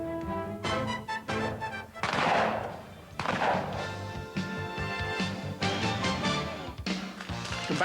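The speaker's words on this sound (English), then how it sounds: "Combine fast-action shooting with instantly visible hit-or-miss targets" Rapid gunshots crack out at a team shooting match with metal plate targets, several sharp reports in quick succession with echoing tails, mixed with a loud roaring burst and background clatter.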